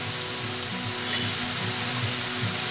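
Red amaranth greens sizzle steadily in a pan with spices, a continuous close frying hiss with faint stirring scrapes and no voices.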